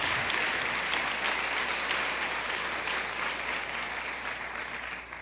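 A church congregation applauds loudly in praise, dense continuous clapping filling the room for about five seconds and easing slightly toward the end.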